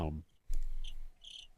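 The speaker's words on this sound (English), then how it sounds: "more crickets." Crickets chirp as a comedic silence gag, a brief high trilling that comes in two short bursts after a voice fades out, thin and moderately quiet.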